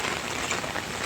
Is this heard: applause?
no